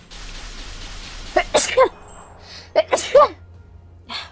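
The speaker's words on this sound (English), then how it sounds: "I need to sneeze." A couple of sharp sneezes close to the microphone, each preceded by a quick inhaled catch, with a short gasp following later.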